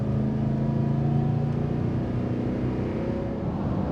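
An old truck towing a trailer pulls away from a fuel stop, its engine droning steadily and loud with a low rumbling hum as it builds speed, heard from inside the cab.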